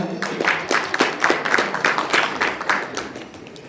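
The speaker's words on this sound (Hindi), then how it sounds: "एक बार जोरदार तालियां।" An audience at an entrepreneur conclave in a hotel hall claps in steady, sustained applause, dense overlapping hand claps continuing throughout at moderate loudness with no voices.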